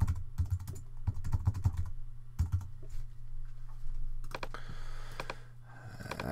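Rapid clicking of a computer keyboard as a registration form is typed out, keystrokes coming in irregular bursts and pauses over a low steady background hum, with no one speaking.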